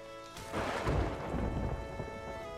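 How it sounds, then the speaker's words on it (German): Lightning strike and rolling thunder during a storm at sea in the pirate game Sea of Thieves, a sudden crack swelling into a deep, sustained rumble over steady rain, loud and alone. "Das Blitz eingeschlagen."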